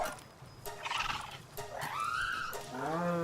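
Cow-like creatures in Palworld low and moo in drawn-out, wavering calls, several overlapping bellows close by against a soft ambient background.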